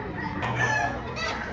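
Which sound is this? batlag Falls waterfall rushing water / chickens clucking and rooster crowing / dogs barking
chickens clucking and rooster crowing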